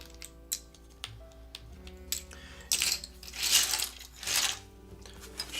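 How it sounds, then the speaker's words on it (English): Plastic keycaps rattle and clatter as they are dropped into a bag, in a series of sharp, close clicks and jingly bursts, some single and some in quick clusters, with no talking. "Actually, I'll put these keycaps in this like bag thing over here that came with."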